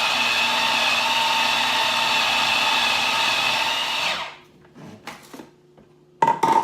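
An electric mixer whirs steadily at close range while blending cream cheese, vanilla and sugar for a cheesecake-like filling, then switches off, leaving a few soft clinks and knocks.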